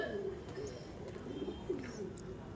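Short-sized Madras pigeons in a loft give soft, repeated cooing over a steady background hum.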